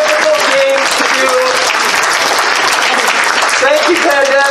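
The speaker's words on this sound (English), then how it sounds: "Give him a round of applause" Audience applause at a convention charity game show: loud dense clapping from a crowd throughout, with voices talking and calling out over it at the start and end.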